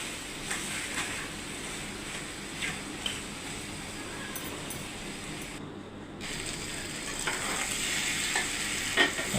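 Beef tripe bhuna cooks in a pot while being stirred, giving repeated scraping and clacking over a continuous low sizzle, with a brief near-silent break midway.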